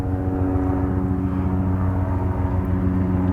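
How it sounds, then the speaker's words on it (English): A steady, low mechanical drone of a helicopter overhead, loud and unbroken throughout with a constant engine hum. "Let's let this helicopter go over."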